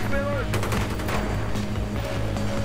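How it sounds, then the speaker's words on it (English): Rapid gunfire in the video game Battlefield 3 crackles through a dense, loud stretch of battle noise, with repeated sharp bursts over a steady low rumble. "What is he shooting at?"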